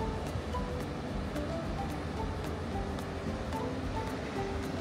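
Ocean surf carrying up to a resort terrace at Four Seasons Hualalai, a soft continuous wash of waves mixed with light wind, distant and even, with no talk over it.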